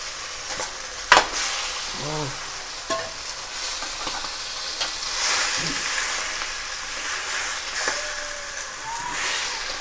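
Mutton fries in oil with ginger in a steel pan, a soft continuous sizzle broken by a few scraping stirs and clinks, heard close with faint background noise.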